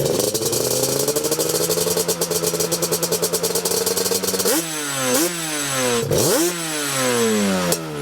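A Yamaha Banshee engine idles steadily and loud and close for about four seconds, then is blipped through several sharp revs that rise and fall, with no talking.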